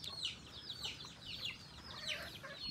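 Several chickens cluck and squawk nearby in quick, overlapping bursts against a soft background hiss.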